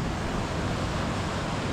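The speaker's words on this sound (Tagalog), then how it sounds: "Malaking alon guys." Big ocean waves make a loud, continuous rush of surf and wind noise that stays steady throughout the short stretch, with no voices over it.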